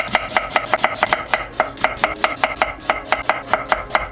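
A knife chops onion into thin strips on a cutting board, a quick, even run of crisp close thuds, roughly four or five per second, with brief pauses between bursts and no voices.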